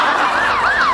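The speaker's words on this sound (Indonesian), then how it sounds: "Ambulan." A wailing ambulance siren rising and falling in smooth sweeps, loud and steady throughout with no voices over it.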